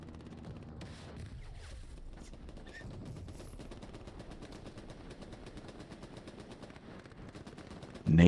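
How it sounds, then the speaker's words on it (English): Rapid, sustained machine-gun fire in the WWII shooter game Hell Let Loose, a dense rattle of rounds running steadily throughout with a louder, closer burst right at the end. "laying it down with his machine gun here"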